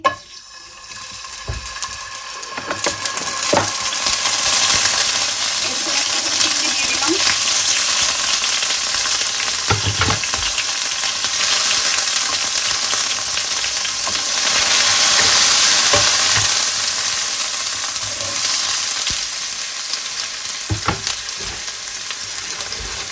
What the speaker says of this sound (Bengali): আমি তেলের ভিতরে প্রথমে আদা রসুন পেস্ট দিয়ে দিব